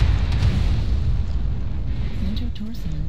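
Heavy booming airstrike detonations from the video game MechWarrior Online roll on as a dense, loud low-end rumble throughout, with a faint voice under the din.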